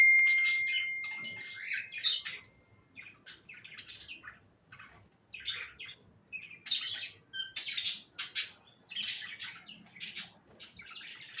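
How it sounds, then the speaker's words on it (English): A breeding pair of budgies chirps and warbles in quick, bright bursts and squawky tweets, close and clear with short pauses between calls. "This Budgies pair is just ready to breed first clutch of this breeding season."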